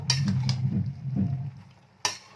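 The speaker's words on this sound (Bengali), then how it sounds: "এটাকেই এখন এইভাবে কিছুক্ষণ নাড়াচাড়া করতে থাকবো" Cabbage cooking with fish head in a pan, stirred with a spatula: a few scraping strokes and soft clinks against the pan, then a brief pause and one sharper scrape at the end, close and moderately quiet.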